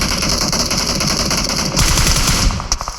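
Gunfire in the PUBG Mobile video game: rapid, loud automatic bursts rattling continuously for a few seconds, then a few separate trailing shots, with no voices over it.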